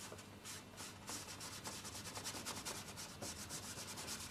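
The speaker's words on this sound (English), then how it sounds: "With a bristle brush, you see," Bristle brush scrubbing oil paint onto canvas in quick, rhythmic strokes, a close, soft, dry rasping that repeats steadily with no voices.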